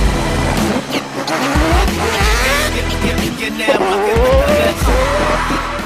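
A drift car slides along the Crown Range road in New Zealand, tires squealing loudly and continuously over a roaring, revving engine, close and sustained.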